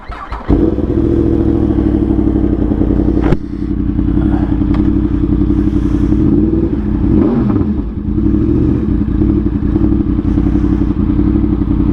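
A Yamaha R1M sport bike fitted with an SC Project exhaust idles loud and close, a steady deep engine rumble with a brief rev swell and a few mechanical clatters and thumps, no voices.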